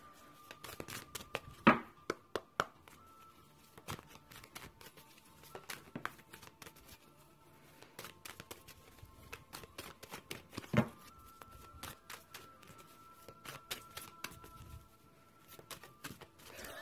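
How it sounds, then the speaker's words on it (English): A deck of oracle cards is shuffled by hand during a tarot-style reading, giving quiet crisp riffling bursts and soft slaps that repeat in irregular clusters, close and faint, with no talking. "So I might as well just shuffle them quickly now."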